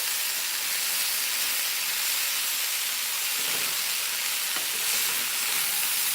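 Potatoes and mixed vegetables frying with spices in a pan: a steady, close, even sizzle with a soft hiss that keeps going throughout, with no voices over it.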